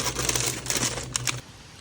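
Rain pattering on a Polerstuff two-person camping tent, a steady close crackling hiss with brief louder spatters, cutting off abruptly near the end.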